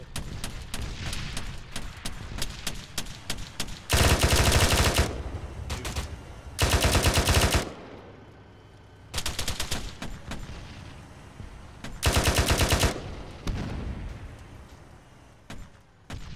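Gunfire in the Arma 3 military video game during a squad training operation: dense, close crackling shots throughout, with several loud sustained bursts of automatic fire and heavier booms.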